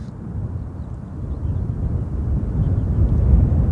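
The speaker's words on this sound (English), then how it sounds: "there's the EasyJet's just landed" An EasyJet airliner that has just landed at Gatwick Airport gives a distant, low rumbling roar that swells gradually, mixed with wind buffeting the microphone.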